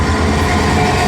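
A train passing at Didcot produces a loud, close, continuous rumble and rush of wheels on rails.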